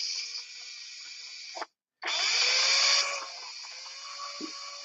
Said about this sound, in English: You can see I'm kind of drilling out